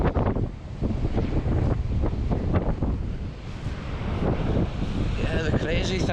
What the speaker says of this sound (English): The crazy thing down here at the coast is the extreme wind